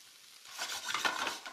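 Applewood smoked Canadian ham strips going into a pot for chili, giving a steady close sizzle with stirring scrapes and utensil clinks, starting quieter and growing busier.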